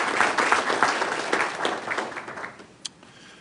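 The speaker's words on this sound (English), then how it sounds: "give them a round of applause for doing it" Applause breaks out at a board of directors meeting, a room of people clapping briskly for a couple of seconds before the sound tapers off, leaving one last isolated clap.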